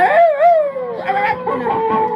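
A dog lets out a loud, close howl that wavers up and down, then breaks into several shorter yips and whimpering cries.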